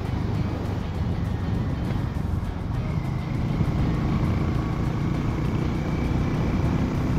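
A Harley Davidson X440 cruiser at speed makes a loud, constant engine drone mixed with heavy wind rush, steady throughout without breaks.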